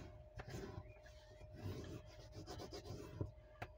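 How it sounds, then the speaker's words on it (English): A tool rubbed firmly back and forth over thin craft paper, quiet scratchy strokes repeating in an uneven rhythm, close up with no talk. "Let's burnish it first."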